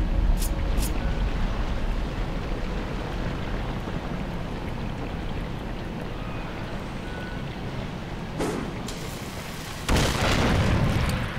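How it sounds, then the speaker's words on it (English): A bomb goes off in the video game Darksiders 2, a broad booming burst that rises suddenly near the end over a steady rain-like wash of game ambience, after a couple of faint earlier thumps. "Throw the bomb on the lip wall."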